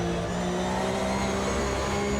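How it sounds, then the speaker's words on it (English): A Porsche 911 GT3 Cup race car in a racing simulator gives a loud, continuous engine drone with straight-cut gear whine, heard from the cockpit and steady throughout. "You can hear the straight cut gears, you can hear that you're sitting in a race car"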